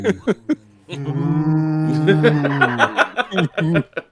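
A group of people imitating a cow, drawing out a long, loud, sustained moo together, with chuckles and short bursts of laughter just before and after.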